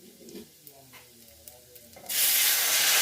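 Tamarind and tomato water poured into a hot pan while making paruppu rasam bursts into a loud, steady hissing sizzle after a couple of seconds of quiet kitchen clinks.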